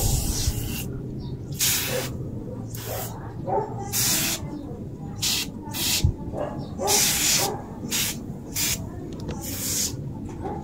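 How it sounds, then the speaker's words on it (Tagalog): Repeated short bursts of a spray bottle hissing close by, liquid cleaner sprayed onto a tire, about a dozen squirts in uneven rhythm with brief pauses between. "Ngayon spray lang natin di sa gulong daw"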